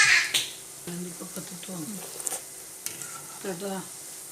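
Pakoda frying in hot oil while being stirred lightly, giving soft sizzling and short scraping strokes close by, under a voice talking through the clip.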